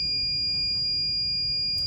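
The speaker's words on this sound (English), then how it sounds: "Second impact, this is a real alarm." Built-in buzzer of a Protech outdoor fence intrusion alarm sounds after a second impact on the fence: a steady, loud, continuous high-pitched electronic tone with no pauses, alone without talk.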